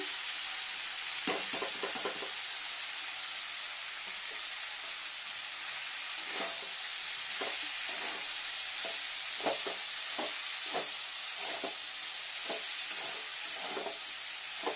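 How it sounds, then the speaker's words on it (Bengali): Grated cauliflower sizzles steadily in hot white oil in a pan, a continuous frying hiss broken by scattered clicks and spatters, with no talk. "এবার এখানে দিয়ে নেবো ফুলকপি গ্রেট করা।"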